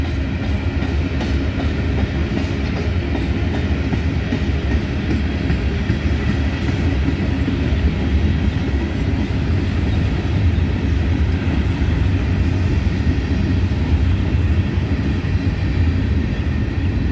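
A long freight train hauled by CP locomotives rolls past at Abbeville with grain hopper cars and potash cars. A loud, continuous rumble of wheels and wagons lasts throughout, steady and close, with no voices.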